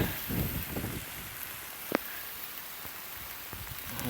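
Rain falls outdoors among plants in a garden, a faint steady patter of drops with a single sharper tap near the middle and no voices.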